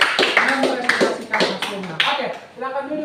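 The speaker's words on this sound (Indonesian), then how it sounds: "kita beri aplaus satu kali lagi untuk kelompok akrobatik" A classroom gives a round of applause for an acrobatics group: a dense, steady patter of many hands clapping for about three seconds, with voices talking over it.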